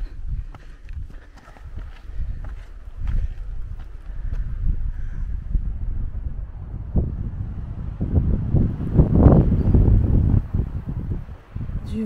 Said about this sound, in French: Du vent, ça fait du bien.